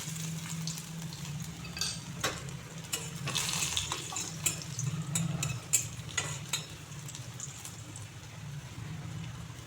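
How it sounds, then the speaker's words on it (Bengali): Whole cumin and chopped garlic sizzling in hot white oil, a continuous close frying crackle with spatters and stirring scrapes throughout. "তেলটা গরম হয়ে গেছে আর এতে দেখুন আমি গোটা জিরা ফোড়ন দিয়ে দিচ্ছি।"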